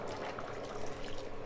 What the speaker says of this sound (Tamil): குழம்புக்கு கொஞ்சம் தண்ணி சேர்த்துக்கோங்க.